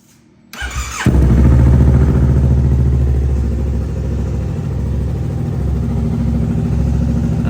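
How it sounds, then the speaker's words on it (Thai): A 2016 Yamaha R3 motorcycle fitted with an aftermarket Akrapovic exhaust cranks briefly, fires up loudly and settles into a deep, steady rumbling idle close by. "เดี๋ยวสตาร์ทให้ฟัง"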